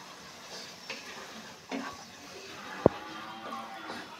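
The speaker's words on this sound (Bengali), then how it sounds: "পেঁয়াজগুলোকে আমি আগে দিব, তারপরে আমি উস্তাগুলো দিব।" Onions frying in a pan after shrimp, a low steady sizzle with soft stirring scrapes, a few utensil knocks and one sharp click against the pan.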